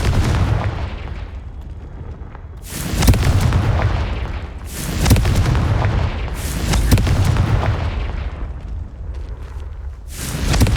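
The Confringo fire spell explodes in Hogwarts Legacy on PS5, producing repeated loud booming blasts with rumbling tails, roughly every two seconds. The blasts are heard alone, with no speech.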